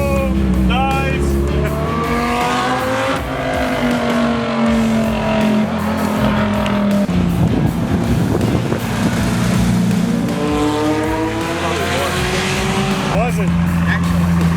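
A race car driving fast around a track at Andersen RacePark in Palmetto, Florida, its engine climbing and dropping through gear changes with wind buffeting the microphone, loud and close throughout while voices talk over it.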